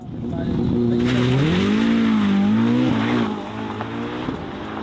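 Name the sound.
Ferrari V8 hybrid supercar engine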